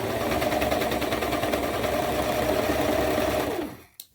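A sewing machine stitches the armhole edge of a cold-shoulder leotard with a quarter-inch seam allowance, running in a fast, steady close-up whir for a few seconds before stopping.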